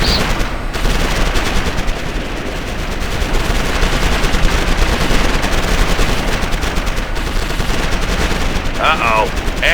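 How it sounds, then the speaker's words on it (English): Dense, loud machine-gun fire and shooting in the Ground Control 2 video game, rattling almost without pause through a chaotic battle, with a brief radio-style voice near the end. "We're under heavy fire."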